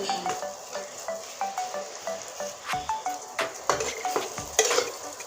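A spatula scrapes steadily back and forth through frying pointed gourd in a pan, with a regular stirring rhythm over a quiet sizzle and a few louder metal clacks near the end.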